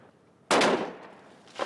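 A hunting rifle fires one sharp, loud shot at an iceberg to break off a sample. The report cracks out in the open, then trails off, and a faint thud or echo follows a moment later.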